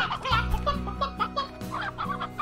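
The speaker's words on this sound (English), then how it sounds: "Or feed the stony hen away." A stony hen in the video game Slime Rancher clucks in quick, close, repeated bursts over about two seconds, with no talk over it.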